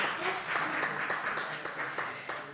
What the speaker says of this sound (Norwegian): Spontan applaus.